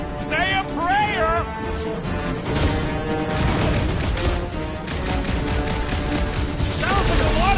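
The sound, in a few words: gunfire in a video game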